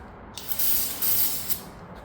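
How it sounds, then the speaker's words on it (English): An aerosol can of brake cleaner sprays onto an oily car part in a few close hissing bursts, each a second or less, with short pauses between. "Got some brake cleaner. Dry that oil up pretty good."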